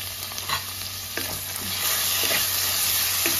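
Marinated chicken and onion frying in a pan sizzle with a steady hiss, punctuated by a few close spatula scrapes and taps as the pieces are stirred, the sizzle swelling slightly louder midway.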